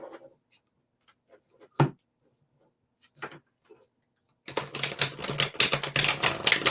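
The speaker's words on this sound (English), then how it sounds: "I'm just going to keep shuffling decks" Tarot card decks being shuffled up close: a few sparse light taps and flicks, then a dense, rapid riffling clatter that fills the last couple of seconds.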